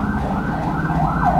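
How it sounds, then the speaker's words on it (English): A wailing siren rises and falls continuously, loud and steady, like an emergency vehicle passing nearby. "Sorry about this siren."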